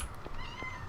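A cat meows in the Minecraft video game, a couple of short faint mews close together, with no talk.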